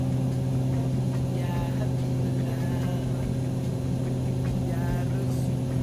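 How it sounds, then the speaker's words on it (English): Simulated TBM 850 turboprop in MSFS2024, a steady droning engine hum with strong low tonal bands holding throughout as the propeller setting is eased back, a faint shift in pitch under constant loud cabin drone. "Can hear the slight pitch and sound change as we drop that prop down just a little bit"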